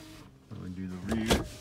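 The front passenger-side power window of a Buick LeSabre runs briefly, a faint whirring motor hum rising in pitch and ending in a short thump as the glass seats.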